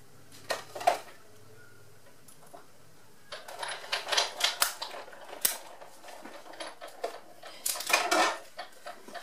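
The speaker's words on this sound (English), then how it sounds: "So I'm just going to run this through my Big Shot." Big Shot die-cutting machine pressing stitched card mats through its rollers, giving a series of close clattering, grinding mechanical bursts with short pauses between them and no talk.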